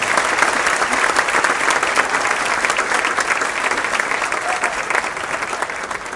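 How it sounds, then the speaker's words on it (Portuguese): Audience at a book launch event in Maranhão giving a sustained round of applause for the state's public servants, dense continuous clapping from a large crowd, loud and even throughout with no talk over it. "pedir uma salva de palmas aos servidores públicos do Maranhão"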